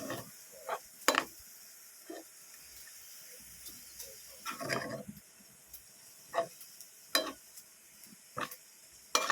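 Mung bean sprouts being stirred and sautéed in a pan for ginisang sprout mongo, soft sizzling under a series of scattered scraping stir strokes, close and fairly quiet, no voices.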